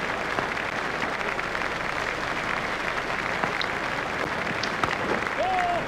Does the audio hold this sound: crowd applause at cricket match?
yes